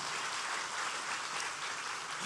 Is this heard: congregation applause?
yes